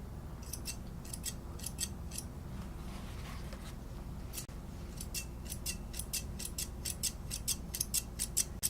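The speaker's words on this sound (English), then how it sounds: "I'm just going to remove some of the rough edges. With the curved scissors." Curved scissors trim the rough edges of a poodle's coat near the tail, making crisp, close metallic snips in quick rhythmic bursts with a short pause partway through. Behind them is a low, quiet room hum, with no talking.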